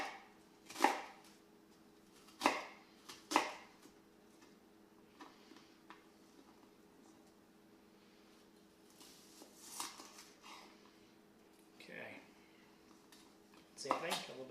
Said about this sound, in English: Trying to get the slices as uniform as possible so that they're going to dry as consistently as possible